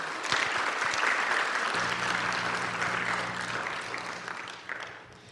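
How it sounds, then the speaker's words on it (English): An event audience applauds its partners with dense, sustained clapping that swells early and then slowly thins toward the end, filling the room without any talk over it. "So let's give a round of applause to all of our partners."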